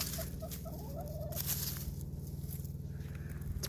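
Fowl at a backyard chicken coop in spring make soft clucking and gobbling calls against a constant low, rhythmic hum close by.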